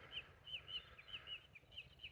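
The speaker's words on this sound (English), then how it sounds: "you just hear the birds." Birds call on an early morning walk near a village, a faint series of repeated high chirps and short whistles, evenly spaced, heard at a distance with no talking.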